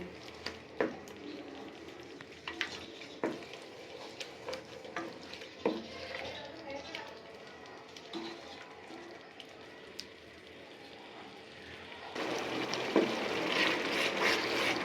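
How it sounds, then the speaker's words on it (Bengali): Soft sizzle of chicken and spice masala being stir-fried in a pan with a little water, broken by scraping strokes of a spoon, then a louder burst of frying toward the end. "ভাজা ভাজা করে নেব, খুব ভালো মতন কষিয়ে নেব।"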